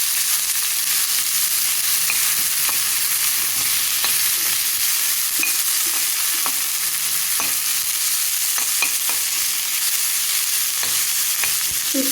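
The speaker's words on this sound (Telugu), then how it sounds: "ఉల్లిపాయ ముక్కలు, పచ్చిమిరపకాయ ముక్కలు యాడ్ చేద్దాం. ఇప్పుడు వీటిని గరిటెతో ఒకసారి కలుపుదాం." Onions and green chillies frying and sizzling steadily in a pan while a ladle stirs them, with occasional scraping clicks over the constant hiss.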